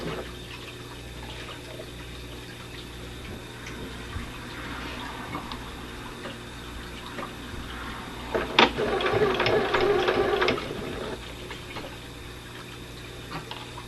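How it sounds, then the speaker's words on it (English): A sewing machine stitches along a beanie hat seam, running over pins with a continuous mechanical whir that swells briefly louder partway through, heard close with no talk. "This is the part where I usually just sew over top of my pins, and I pull them out so I don't get the head of the pin."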